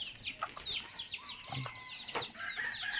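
Chickens cluck and chatter steadily nearby, with a rooster's call rising among the busy farmyard noise.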